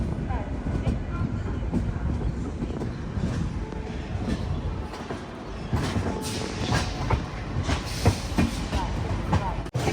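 Deccan Queen Express running between Pune and Lonavala, steady loud rumble of rolling wheels and carriage noise throughout, with occasional clicks and clatter from the rails and a faint voice mixed in under the din.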